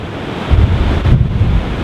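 Sea waves crash onto a beach at Blackpool during shore fishing, a loud rushing surge building with a close heavy break midway, mixed with buffeting wind noise on the microphone.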